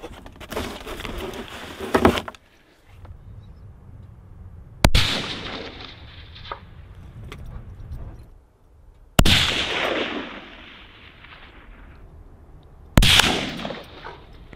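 Four loud rifle shots from a .270 and a 45-70 lever action crack out a few seconds apart at an outdoor range while sighting in on a 100-yard target, each blast trailing off before the next.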